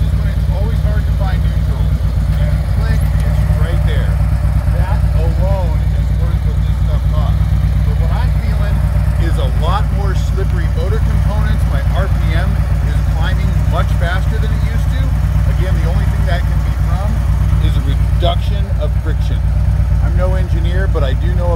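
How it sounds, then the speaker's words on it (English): A 2012 Harley-Davidson Ultra Classic sits at a stop in first gear, its engine idling in a steady, deep, loud rumble that runs continuously beneath someone talking throughout. "I'm in first gear right now at a stop."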